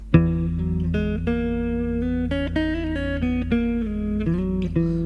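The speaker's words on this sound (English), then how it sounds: "If you change one of those notes, it becomes a Lydian scale." A sustained, synth-like melodic line steps through a rising and falling Lydian scale, each note held briefly with steady loudness and no voices.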